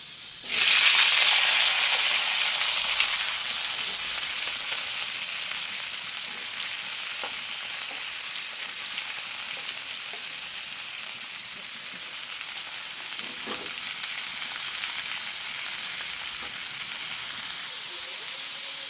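Flat beans hit hot oil seasoned with five-spice seeds and dried red chillies in a wok, a loud hissing burst at the drop settling into a long, steady sizzle with a few faint knocks.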